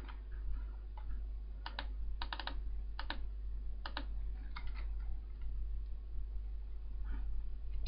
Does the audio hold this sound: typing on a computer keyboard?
yes